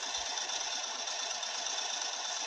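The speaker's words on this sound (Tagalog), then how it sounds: "Hindi siya nagpapatay ng motor eh. Ng makina. Tuloy-tuloy lang ang patakbo niya." Small fishing boat's motor runs continuously at sea, a steady rapid mechanical chugging heard at moderate distance, even and unbroken, with no talk.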